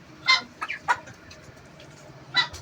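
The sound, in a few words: geese and turkeys vocalizing in their pen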